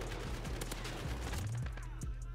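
Rapid gunfire pops in quick bursts during a hip-fire kill in Modern Warfare, fairly quiet and dense over a constant game background for a couple of seconds.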